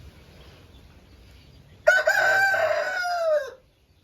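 An Aseel rooster crows once, close and loud, a single strained call lasting under two seconds against a quiet yard.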